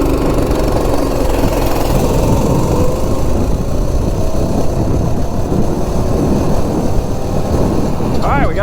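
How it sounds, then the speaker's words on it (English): Loud, continuous engine roar of an MB200 minibike fitted with a 40-tooth sprocket, rising as it accelerates from 0 to 30, with heavy rumble and wind buffeting throughout. "0 to 30 with a 40 sprocket on the MB200."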